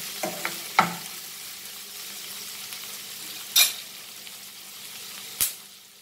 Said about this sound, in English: Now tomatoes, and cook this till the tomatoes are nicely soft.